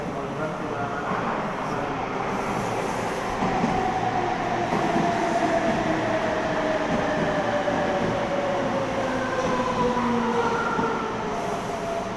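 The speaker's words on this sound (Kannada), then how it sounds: "ಇವಾಗ ಕೂಡ ಟ್ರೈನ್ ಹನ್ನೊಂದು ಮೂವತ್ತಕ್ಕೆ ಬಂತು" A Japanese train pulls into a station in Nagoya, its steady rumble continuous and loud for the whole stretch, with long drawn-out tonal squeals gliding across it.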